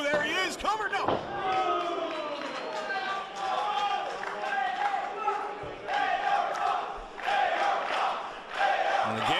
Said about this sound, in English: this crowd getting behind Fox, but his offense taking a toll on himself as well